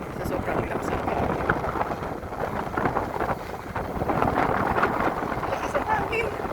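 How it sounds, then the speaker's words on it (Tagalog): Strong gusting wind buffets a microphone outdoors on a riverwalk in Valenzuela City, a continuous loud low rumble with surges, under a person talking. "Sensya niya sa audio ko kasi sobrang lakas ang hangin."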